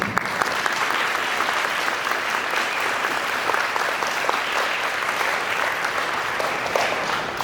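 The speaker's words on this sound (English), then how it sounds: "So a little round of applause for Ms. Stone." An audience at a school living wall ribbon-cutting ceremony claps steadily for several seconds, a dense, even patter of many hands with no voices on top.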